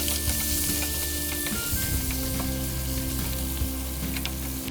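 Garlic and onion frying in a pan at a solo camp on Aboriginal lands, a steady close sizzle with a low hum beneath and occasional stirring knocks, no talking.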